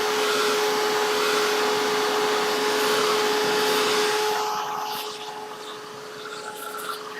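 A handheld dryer blows on wet paint on an artwork, a loud steady whirring hum with a constant tone that drops in level near the end as it is moved away or switched down.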